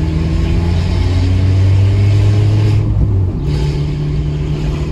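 Onboard sound of a Peugeot 206 1.4 accelerating, its exhaust giving a loud, close rumble that holds steady, then eases off slightly near the end, with no speech.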